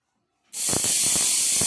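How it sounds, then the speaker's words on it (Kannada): Pressure cooker steaming radish sambar dal with turmeric: after half a second of silence, a sudden loud, steady steam hiss bursts out and carries on without pause. "ಮೂರು ವಿಜಿಲ್ ಕೂಗಿಸ್ಕೊತಾ ಇದ್ದೀನಿ"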